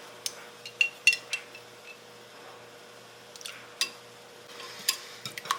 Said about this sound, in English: Now just whisk that all up in there together, get the vanilla mixed in with everything else